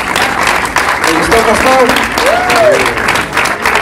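A church congregation applauds the drama group at a Pastor's Day service with loud, sustained clapping, while a few voices speak briefly over it.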